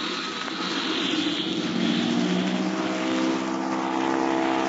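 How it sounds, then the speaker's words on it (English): Propeller airplane taking off in an old radio drama sound effect: a loud, steady engine drone with a slowly shifting pitch that swells gradually, heard alone without voices. "They're gonna have a mighty tough time to make a quick takeoff to clear those trees."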